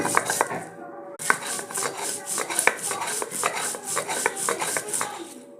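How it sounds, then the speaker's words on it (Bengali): Ginger and four or five ripe chillies are ground on a sil-nora stone, with quick, repeated scraping and knocking strokes of stone on stone, close and steady, pausing briefly once before resuming. "শিলনোড়ার মধ্যে 1 কোয়া আদা এবং 4-5টা পাকা লঙ্কা আমি শিলনোড়ার মধ্যে বেটে নেব।"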